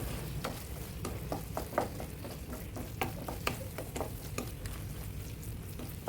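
Spinach with onion-chili paste being stirred in a pan gives a steady sizzle broken by repeated scraping, clacking stirs at an uneven rhythm, close and moderately loud, with no voices.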